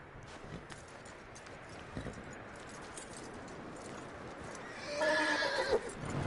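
A horse in Red Dead Redemption 2 gives a loud whinny near the end, after soft hoof steps and quiet background ambience.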